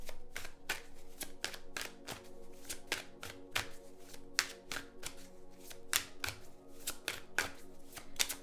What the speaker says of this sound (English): Let's get all the cards out.